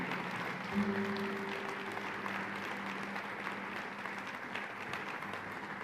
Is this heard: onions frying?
no